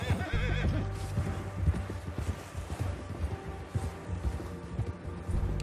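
In Red Dead Redemption 2 a horse whinnies loudly and repeatedly while its hooves clatter in an uneven clip-clop, close by, with game music and tones droning underneath.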